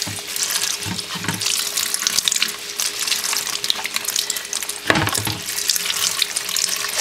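Tap water runs steadily into a sink while dyed silk hankies are rinsed in a colander, a close, continuous splashing stream with a few brief clunks, no talking.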